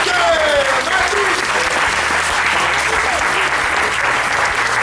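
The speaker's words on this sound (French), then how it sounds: "Sous les applaudissements du public!" A crowd at a Christmas show applauds with loud, steady, dense clapping that runs without a break, while voices sound over it.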